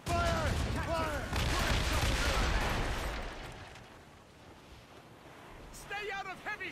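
Ship cannons in Assassin's Creed Rogue boom in a sustained volley of heavy blasts over sea and wind, with a voice shouting at the start and end as the rumble fades.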